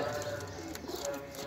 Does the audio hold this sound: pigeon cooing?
yes